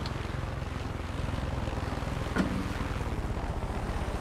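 Helicopter in the Far Cry 5 game, a steady, moderately loud rotor thrum with a continuous low pulsing beat and a brief bump partway through, with no talk.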